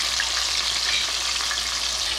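Burbot fillets frying in a pan, a steady, dense hiss of sizzling oil heard close and alone.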